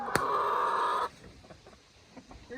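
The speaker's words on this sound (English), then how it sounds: "Here, chickens." Chickens cluck softly near a cabin as they are moved to a new home, brief faint fowl calls following a sustained louder noise, with no talking.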